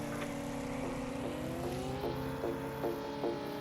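Video game car engine in Sub Rosa revving hard in second gear, a droning, rising engine note that climbs in pitch with small stepped surges, steady and moderately loud with no talk over it.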